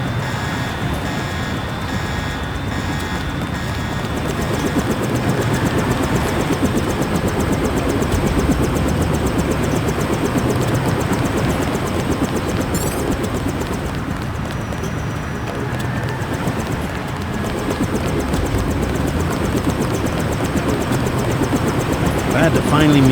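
Helicopter engine in the 2000 PC game Deus Ex, a steady, loud, dense drone with a whirring rotor texture running unbroken throughout.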